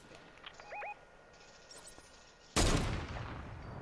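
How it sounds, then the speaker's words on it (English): Gunfire aimed at trees in Fortnite, a few faint distant shots early on followed by a sudden loud burst of rapid firing and crashing noise that carries on to the end. "I'm trying to shoot the trees down."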